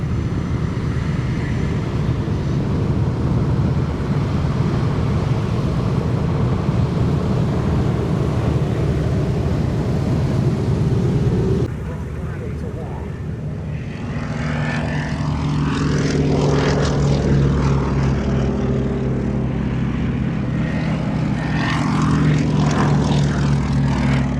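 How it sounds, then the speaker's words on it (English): A Bristol Blenheim 1F with twin Mercury radial engines takes off from a hard runway at the Duxford air show. The propeller drone is loud and sustained, then shifts to a rising, sweeping roar as the aircraft passes and climbs away. "Off the hard runway goes the Bristol Blenheim 1F."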